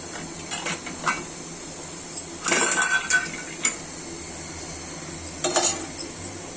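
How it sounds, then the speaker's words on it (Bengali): Boiled taro goes into a cooking pot of soaked black gram dal, with quiet sizzling underneath. A few bursts of metal spoon scraping and clinking against the pot break in at intervals. "এখন দেখুন এই পর্যায়ে আমি আমার এই যে সিদ্ধ করে রাখা কচুটা ছেড়ে দিব"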